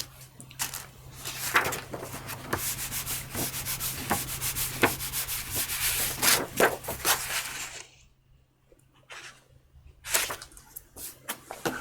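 A baren is rubbed firmly over paper on a carved woodblock while printing a Japanese woodblock print, giving a close, steady, scratchy rubbing with rhythmic strokes. It pauses briefly near the end, then resumes with a few short strokes.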